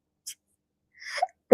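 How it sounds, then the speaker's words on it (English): A person's sneeze, short and abrupt, with a faint catch of breath before it and a sharp burst at the end, close and loud against silence. "That was a very weird sneeze"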